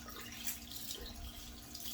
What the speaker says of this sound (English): So I'm just wetting the washcloth with warm water.